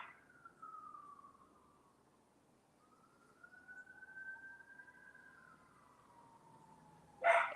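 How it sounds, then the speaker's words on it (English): A distant emergency siren wails through a neighborhood, its tone rising and falling slowly and faintly over quiet background noise, with a brief sharp sound at the end. "I don't know if you can hear the sirens in the background."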